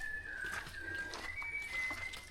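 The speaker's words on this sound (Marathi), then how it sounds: "पक्षीचा आवाज येतो पण तो असं वाटतं कोणतरी शिट्टी मारतोय आहे ना" A bird in dense forest around an old hilltop temple gives thin, human-like whistled notes, several short, level tones in a row, faint and distant against quiet background hiss.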